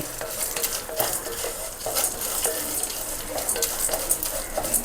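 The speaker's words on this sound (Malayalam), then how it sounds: "നമുക്കതൊന്ന് വറുത്തെടുക്കാം" Vermicelli roasting in a spoonful of ghee in a pan for a vanilla fruit salad, a steady light sizzle with repeated scraping stirs and small spoon clicks against the pan, close and with no talk.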